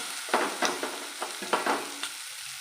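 Potol stuffing frying in a pan with chopped green chillies, turmeric, chilli powder and salt, heard as a soft sizzle broken by several quick scraping stirs.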